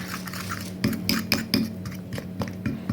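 A spoon clinks and scrapes against a bowl of dumpling soup in a few light, irregular taps, close by, over a faint steady hum.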